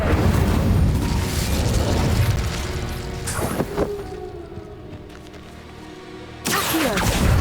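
The Incendio fire spell in Hogwarts Legacy, a whooshing burst of flame followed by rumbling impact booms, loud and close, with a second burst near the end.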